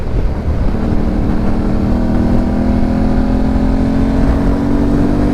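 A Yamaha T7 motorcycle fitted with a Camel ADV high exhaust and dB killer cruises at about 50 in third gear, its engine droning loudly and steadily with a rising tonal whine under heavy wind rush.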